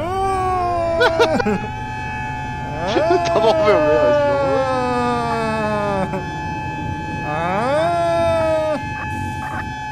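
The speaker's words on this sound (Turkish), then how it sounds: "açtım sirenleri" A fire truck siren in a firefighter simulator video game wails in rising and falling sweeps, loud and sustained, while a voice talks over it.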